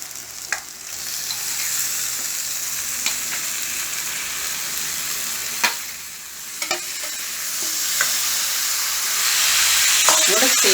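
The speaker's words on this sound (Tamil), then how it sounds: "இப்போ நம்ம இந்த ஊற வச்சுருக்க சிக்கனை இதனோட சேர்த்திடலாம்." Marinated chicken frying with a cooked-down tomato masala for chicken karahi, a steady close sizzle broken by occasional spoon knocks and stirring scrapes, with no talk.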